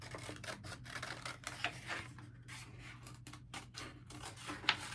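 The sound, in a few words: scissors cutting out paper triangles for a craft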